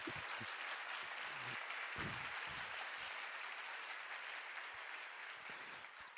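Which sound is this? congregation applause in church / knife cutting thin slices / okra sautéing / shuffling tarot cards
congregation applause in church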